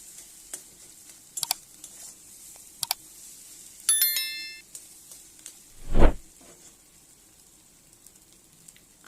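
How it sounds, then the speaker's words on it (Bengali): Egg bhujia, crumbled egg, fries in a pan with a faint, steady sizzle, broken by a few light utensil clicks and one soft thud near the end. "আরও 1 থেকে 2 মিনিট ডিমটাকে ভেজে নিয়ে তুলে নিলেই রেডি হয়ে যাবে আমাদের ডিমের ভুজিয়া"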